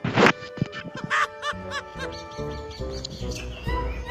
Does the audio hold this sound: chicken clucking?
yes